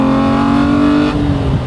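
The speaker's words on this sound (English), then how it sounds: "I've now got revs." A Jannarelly Design-1 sports car engine revving close and loud, a strong harmonic tone held steady then dropping as the throttle eases, with no talking.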